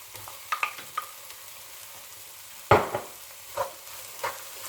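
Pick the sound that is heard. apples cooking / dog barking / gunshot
apples cooking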